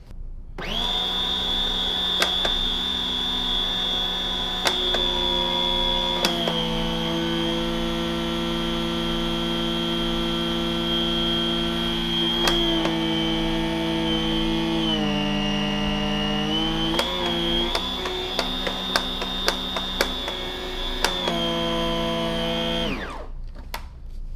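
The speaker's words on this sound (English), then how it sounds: "Hopefully you can hear the tone change in the nozzle." A steady whining central vacuum drone with a strong high tone, which dips and shifts pitch midway as the nozzle tone changes before settling, then cuts off near the end.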